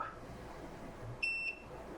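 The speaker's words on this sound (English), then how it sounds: "Do not release the button until the beep is heard." Two short electronic beeps from a Secretlab Magnus Pro XL standing desk during calibration, high clear tones back to back over faint room noise.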